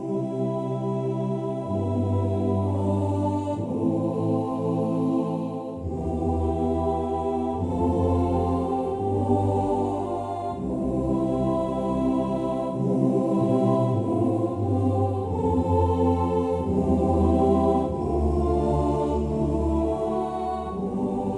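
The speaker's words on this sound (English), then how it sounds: "this sound you hear is actually a choir sampled in Germany. I think it's called Münster Cathedral." A soft choir voice on a Yamaha CVP709 digital piano, sampled in Münster Cathedral, swells through sustained, overlapping chords with smooth legato changes, steady and close with no talking over it.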